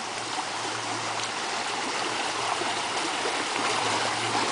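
Flood water during a tsunami-like surge in Denmark rushes past close by in a loud, steady broadband roar that continues without a break.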